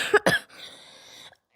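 A child with a persistent, long-lasting cough gives two sharp, close coughs in quick succession, followed by a wheezy, breathy inhale that trails off into silence.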